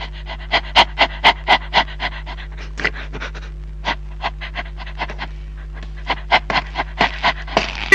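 A dog pants rapidly and close up, in quick rhythmic bursts of breathy huffs, pausing briefly before starting again, over a steady low hum.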